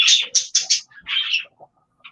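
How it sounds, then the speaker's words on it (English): A crow or raven gives a quick run of harsh, raspy calls, four close bursts and then a longer one, followed by a few fainter scattered notes, loud and near with no talking. "I think that bird has an attitude"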